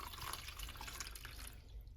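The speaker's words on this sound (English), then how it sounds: "you're going to pour the buttermilk out" Buttermilk strained through a sieve into a bowl while making cultured butter, a steady trickling, dripping liquid stream close by, continuous for the whole stretch with no talk.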